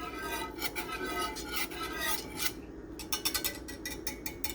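Spoon scraping and rubbing against a bowl while an aloe vera and rose water mixture is stirred, a close rhythmic rasping with short pauses and no talk.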